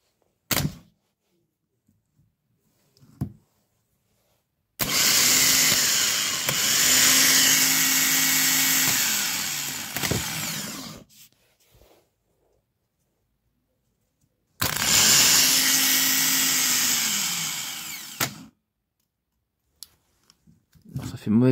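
A car starter motor is energised on a test and engages in two separate bursts. Each burst is a loud whirring grind lasting several seconds, with quiet gaps and small clicks of contact between them.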